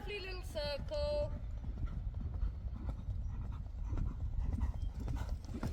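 Horse hooves beat in a steady clip-clop during a riding lesson, mixed with muffled movement noise. A few brief whistle-like calls sound near the start.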